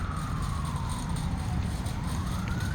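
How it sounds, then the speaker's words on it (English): A wailing siren sweeps slowly up and down over a steady low rumble of traffic, continuous and moderately distant. "I know I still hear the siren, that's why y'all hear it."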